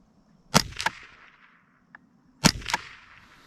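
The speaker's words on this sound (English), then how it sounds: "Well, let me fire 3 rounds." Handgun shots fired while sighting in a reflex sight: four sharp cracks arriving in two close pairs, each followed by a brief decaying echo, with quiet between the pairs.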